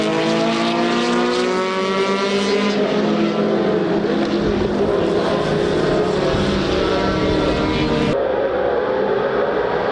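Rolt RT5 race cars cross the finish line at a club round at CARCO.com.au Raceway, a loud, continuous engine roar with shifting tones that holds steady for the whole stretch.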